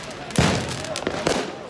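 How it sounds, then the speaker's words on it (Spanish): New Year's fireworks bursting over Hamburg, with a loud sharp bang near the start, a softer pop in the middle and another bang toward the end against a crackling wash of distant blasts. "Todo el mundo está tirando sus fuegos artificiales."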